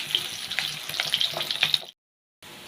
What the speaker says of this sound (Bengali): ওই তেলে আলুগুলো দিয়ে ভেজে নেব।